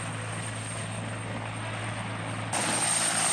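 A medevac helicopter keeps running during hot refuelling in Afghanistan, its steady loud rotor and turbine drone constant, then abruptly swelling louder near the end.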